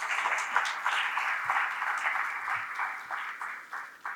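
Audience applause after a keynote on India's consumption economy, a dense steady wash of many hands clapping at moderate distance, holding throughout with no talking.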